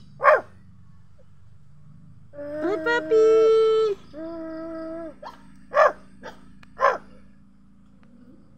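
A small dog gives a few short, sharp yips and barks close by, with a longer whining, howl-like cry in the middle, while a person talks softly to it in between.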